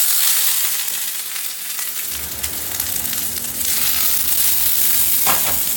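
Peppers dropped into a hot pan of smoking, infused olive oil break into a loud, steady sizzle that swells and crackles as they are stirred.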